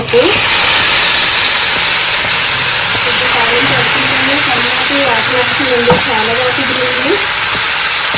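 Dal hits hot ghee in a tempering pan for a fenugreek-leaf dal, a loud, steady frying hiss that holds throughout while a voice talks over it.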